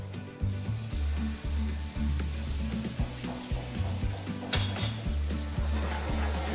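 Salmon sears skin-side down in a hot pan, giving a constant crackling sizzle cut by repeated low thumps and scrapes of the pan, close and steady throughout.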